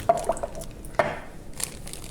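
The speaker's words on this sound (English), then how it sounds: "so I'm going to just kind of stir that in there." Vegetable bouillon stirred into a bean stew in a slow cooker, producing a few short, wet squelching strokes of a spoon through thick liquid, close and moderately loud.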